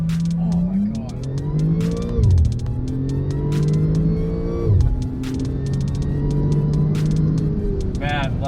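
A 2012 Audi S4 launching hard from a standstill, its engine revving up through several rising sweeps broken by quick gear shifts, loud and close from inside the car, with voices talking over it.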